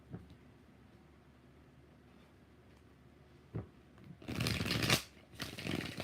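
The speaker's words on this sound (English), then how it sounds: "Two more shuffles." Tarot cards shuffled by hand in a few quiet riffles, then a loud, dense burst of card shuffling near the end, close and alone without talk.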